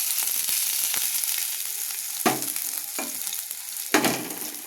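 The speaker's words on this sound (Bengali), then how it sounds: "একটু ভালো করে ভাজতে হবে যাতে ভালো গন্ধ ছাড়ে" Dried chillies, a bay leaf, ginger and green chillies frying in hot oil, a steady close sizzle broken by a few sharp stirring scrapes against the pan, with no voices.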